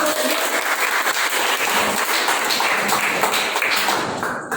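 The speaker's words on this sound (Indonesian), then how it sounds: "tepuk tangan" Hand clapping from a class of ninth-grade students during a fiqh lesson on aqiqah, a dense, continuous patter of many hands, bright and close, fading slightly at the end.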